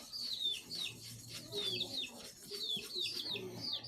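Repeated high, chirpy bird calls come in short bursts over low background noise, like hens clucking and squawking nearby.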